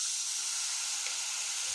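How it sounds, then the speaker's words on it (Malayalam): Steady, bright sizzling as two tablespoons of vinegar hit hot chili-powder masala in a pan while a sardine pickle is cooked, a continuous close hiss with no pauses or voices. "2 ടേബിൾ സ്പൂൺ വിനാഗിരി ഞാൻ ഒഴിച്ചിട്ടുണ്ട്."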